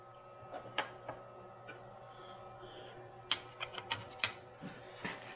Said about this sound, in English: Put our nut on and do that up.